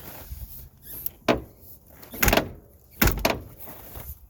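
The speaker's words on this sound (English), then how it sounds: "At least shut the door." A vehicle door thuds shut at a junkyard, followed by a couple more heavy door bangs and latch clunks at close range, with quiet pauses between.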